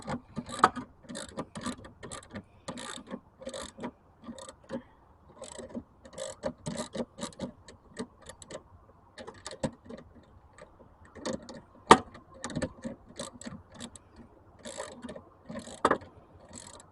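A hand ratchet clicks in quick, uneven runs while snugging bolts on a LiFePO4 battery system, crisp close ticking separated by short pauses over about seventeen seconds in an otherwise quiet room.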